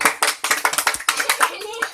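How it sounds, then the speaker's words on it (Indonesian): Children clap their hands in a classroom, a quick, loud run of about a dozen close, uneven claps with children's voices chattering underneath. "ya tepuk tangan buat semuanya"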